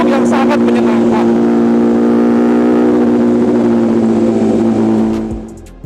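An MV Agusta Brutale 1000 motorcycle engine holds a loud, steady drone with a strong harmonic whine throughout, heard close up, then fades and cuts off near the end.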